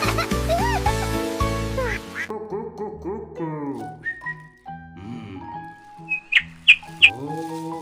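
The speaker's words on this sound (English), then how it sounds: "This is duck." A cartoon duck character quacks in a children's color-bag surprise segment, several short bright quacks near the end following music and busy sound effects, with a voice speaking over parts.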